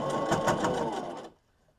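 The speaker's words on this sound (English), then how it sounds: "I don't want to break a needle on my sewing machine" A sewing machine stitches a seam on a fabric face mask, a fast, close, steady whirring run that stops abruptly, leaving near silence.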